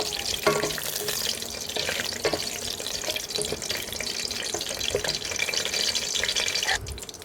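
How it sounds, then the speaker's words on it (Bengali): Bay leaf, cardamom, cinnamon and a clove fry in hot ghee in a pan, giving a steady, close, crackling sizzle that carries on without a break and is heard alone. "এখন আমি এখানে ঘির মধ্যে একটু তেজপাতা দিয়ে দেব।"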